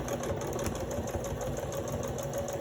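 Sewing machine stitching light tan thread along the lace edge of a paper bag folio journal, a steady continuous motor whir with rapid needle rhythm, close and constant throughout.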